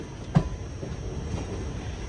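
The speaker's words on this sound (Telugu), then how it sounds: "ఎన్ని మెలికలు తిరుగుతుందో చూడండి మన ట్రైన్." A Goa to Tirupati Express passenger train runs along a winding, curving track, giving a steady rumbling rail noise with one sharp knock near the start. It is heard from on board at moderate level, with no talk.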